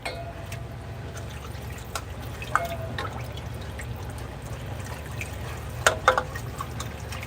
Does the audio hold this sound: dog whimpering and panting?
no